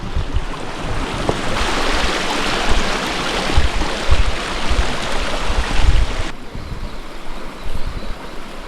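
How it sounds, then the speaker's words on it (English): A river rushes steadily nearby, its broad close-up roar of flowing water holding loud and constant throughout, with a sharper surge midway before it eases a little. "Made it down to the river."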